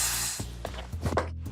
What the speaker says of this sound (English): So I'm gonna spray directly into the key insertion